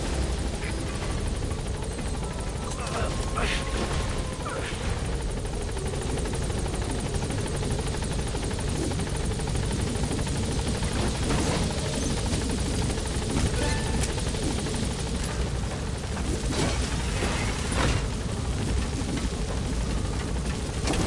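A helicopter in a war video game, its rotor and engine wash forming a steady, dense roar throughout, with occasional brief clicks and effects over it and no speech.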